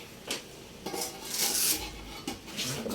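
A lid set onto a pot of laing on the stove, several sharp metallic clanks and scraping rattles in quick succession, close and fairly loud with no talking.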